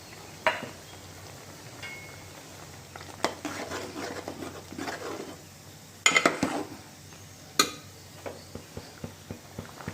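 Coconut and coriander paste being added to a simmering prawn and drumstick curry in a pot, heard as scattered metal clinks and scraping spoon taps against the pot, with a few sharper knocks amid quiet kitchen background.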